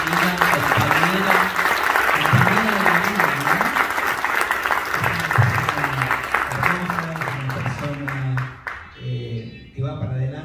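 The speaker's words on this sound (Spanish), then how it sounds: "¿Le podemos dar un fuerte aplauso a esta gran amiga, compañera?" An audience at a ceremony gives a friend loud, sustained applause that fills the room. It carries under a speaking voice and tapers off near the end.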